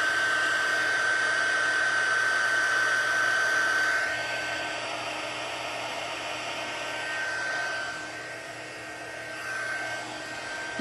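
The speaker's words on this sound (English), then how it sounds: "I love heat embossing." A heat gun used for heat embossing blows with a steady, loud whirring hiss close by, its pitch and intensity shifting slightly as it is moved across the work.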